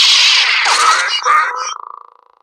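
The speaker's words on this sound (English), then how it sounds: "Listen to that vicious saber sound." A toy lightsaber sound effect: a loud, harsh buzzing hum that wavers through swing-like sweeps, then fades into a pulsing tail.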